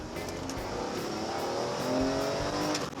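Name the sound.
BMW M3 E46 straight-six engine accelerating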